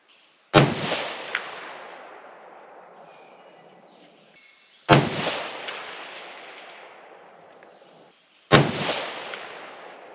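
Three sharp, loud rifle shots from a Savage 110 Desert Tactical in 6.5 Creedmoor firing factory ammunition, each crack followed by a long rolling echo, spaced about four seconds apart with no talking.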